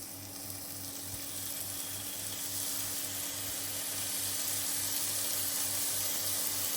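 Chicken strips for fajitas sizzle steadily in an oiled frying pan, a continuous hiss that builds slightly over the seconds, alone with no talk.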